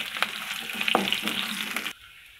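Chopped garlic and ginger fry in a pan for cauliflower potato curry with a close crackling sizzle and a few sharp pops, then the sound drops off abruptly to quiet.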